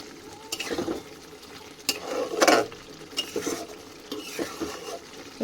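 Coconut prawn curry being stirred in a pan: a few scraping, clinking strokes of a spoon against the pan at irregular intervals over a faint sizzle, close and fairly loud, with no talking.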